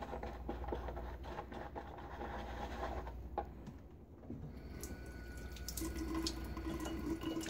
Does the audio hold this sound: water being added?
yes